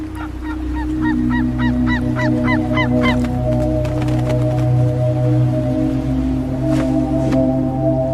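Steller's sea eagles call in Japan in winter, a run of short, repeated yelping notes up close over a low steady drone, then a few sharper cries, with no talk.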